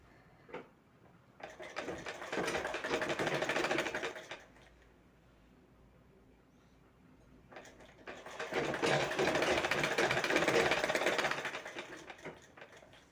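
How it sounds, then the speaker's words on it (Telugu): A sewing machine stitching thread piping onto a blouse sleeve, running in two sustained bursts of rapid needle whirring separated by a quiet pause, close and clear. "ఇప్పుడు నేను దీనిని చేతుల్ని దగ్గరికి పెట్టేసుకొని మనకి నీట్గా వచ్చే విధంగా కుట్టు అయితే వేసుకుంటున్నాను"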